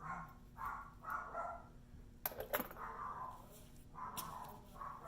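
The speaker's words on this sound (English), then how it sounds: "sorry about my dogs." Several dogs barking in a home, a few sharp barks breaking out mid-clip over a quieter background of low yapping and murmur, fairly near, with no clear talk.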